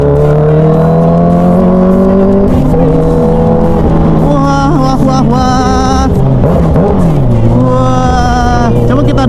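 A Kawasaki Ninja H2 supercharged motorcycle engine revs hard and climbs through the gears, its loud, rising whine holding steady between shifts. Voices talk over the sound throughout.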